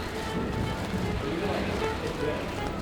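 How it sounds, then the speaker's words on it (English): Rain and wind hiss steadily at a hilltop viewpoint above Bergen, Norway, a low continuous wash of weather noise with gusty rumble underneath. "I don't know if you can hear, but it's definitely raining."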